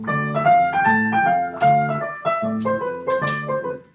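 Jazz piano plays quick eighth-note chords at a fast, bouncing tempo, loud and close, with no talking.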